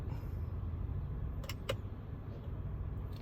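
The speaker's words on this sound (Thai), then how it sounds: "ปลดเบรกมือด้วยนะครับ" A Haval H6 HEV's handbrake releases with two quick, close clicks over the steady low hum of the idling car cabin.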